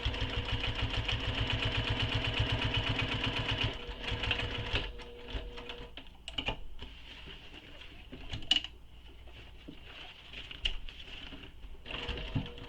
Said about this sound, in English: And I'm also going to stitch across the bottom one more time just for extra security